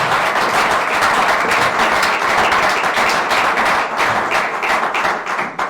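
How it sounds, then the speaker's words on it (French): A church congregation applauds in sustained, dense clapping that fills the room at a steady level before easing slightly at the end. "Et nous t'acclamons au nom de Jésus."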